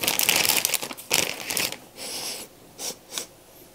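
Plastic packaging bag for a 1998 Porsche Boxster model car kit crinkles loudly and close up during unboxing, with a dense rustling burst followed by several shorter separate crackles.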